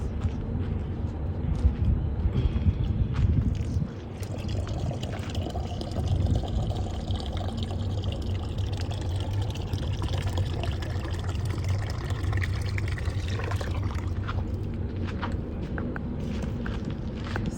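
Water pours steadily and close by for a long stretch, a continuous splashing rush with faint movement around it and no talking.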